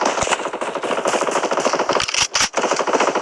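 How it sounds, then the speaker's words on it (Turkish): Rapid, loud bursts of automatic gunfire rattle continuously, with a couple of brief gaps, in the mobile shooter game Blood Strike during a ranked match, with no talking. "Silah sesi de geliyor."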